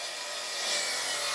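A handsaw cuts a miter through a wooden board for a floating shelf, its broadband rasping steady and close for the whole stretch with no pauses and no voices.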